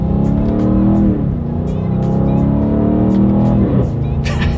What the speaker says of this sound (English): let's go ahead and test out the paddle shifters here